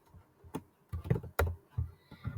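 A password being typed on a computer keyboard, the keys struck one at a time in slow, irregular taps with gaps between them, close and clear, with no talking.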